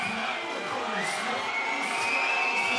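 Arena crowd at a 3x3 basketball World Cup final between Serbia and USA roars steadily, a dense wash of cheering, whistles and shrill shouts with no break, loud and close throughout.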